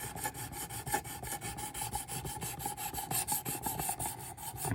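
Steady rasping rub of a knife blade being drawn across the abrasive of a Work Sharp Precision Adjust sharpener, repeated strokes in a continuous close scraping rhythm with no talking.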